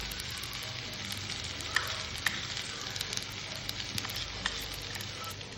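Potato bhaji with chili powder stirred in a hot pan gives a steady sizzle with scattered scraping and clinking of the spoon against the pan, close and moderately loud.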